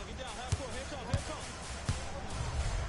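A dunk in the NBA Live 19 basketball video game: a few sharp, punchy thuds of the ball and rim spaced through the moment, mixed under crowd noise and an excited commentator talking.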